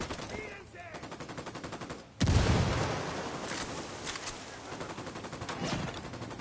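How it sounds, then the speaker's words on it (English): Mortar fire and gunfire sound in a video game, with rapid bursts of shots and a sudden heavy boom midway that is followed by continued rattling fire, fairly faint overall. "I called the rebels for mortar fire."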